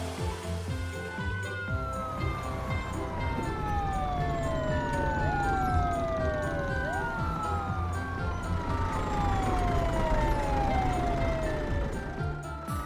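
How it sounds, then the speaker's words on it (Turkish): Cartoon ambulance, fire engine and police car sirens wail together in overlapping rising and falling tones, loud and continuous over a busy rumbling background throughout. "Ambulans, itfaiye arabası, taksi, polis arabası ve kırmızı bir kabriyo."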